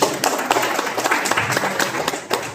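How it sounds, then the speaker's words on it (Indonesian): Audience clapping for the catechists themselves at a session on catechesis methodology, a lively round of many hands with uneven bursts and a sharper final clap, close and fairly loud. "Tepuk tangan untuk Bapak Ibu sendiri."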